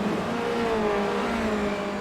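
Formula Renault race cars scream past on a circuit, a brief steady high-pitched engine whine that slides slightly in pitch as they go by.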